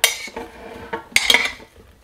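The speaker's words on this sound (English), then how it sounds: "We're gonna stir it up." Onions being stirred into zucchini and yellow squash in a crockpot, a few short scraping and clinking spoon strokes against the pot, close and fairly quiet, with a brighter cluster of clatters midway.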